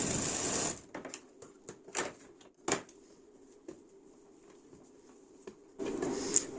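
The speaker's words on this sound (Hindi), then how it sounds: "आपको बराबर नाप के ही दूसरी साइड में डोरी को सिलना है" Sewing machine stitching cord onto the shoulder of a blouse, a brief whirring run at the start and end with scattered soft clicks and taps of fabric handling in between, close and fairly quiet.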